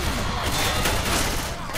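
Dense gunfire rattling nonstop in Left 4 Dead on The Turnpike, a steady close fusillade filling the short stretch with a voice faintly under it.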